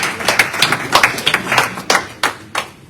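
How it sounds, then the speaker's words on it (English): A small audience claps at a church home-calling ceremony, a short burst of scattered, uneven handclaps that thins out into a few separate claps before fading. "Shall we clap for him"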